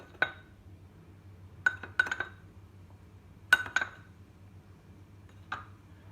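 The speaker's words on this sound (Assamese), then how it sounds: "এতিয়া এই ভাজি কৰি থোৱা বেচন 4 চামুচ দি দিম" Spoonfuls of roasted gram flour added to a bowl for pumpkin cutlets, heard as about half a dozen light, sharp clinks of a spoon against the bowl, spaced irregularly over a quiet background.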